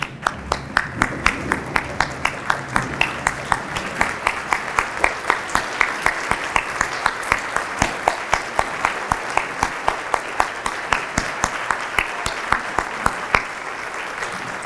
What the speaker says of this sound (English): join me in one final round of applause for our 7 honorees today